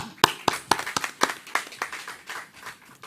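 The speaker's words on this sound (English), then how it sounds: "I'm going to give you all a round of applause" A conference audience gives a short round of applause, starting with a few distinct claps that blur into a fading patter over about three seconds.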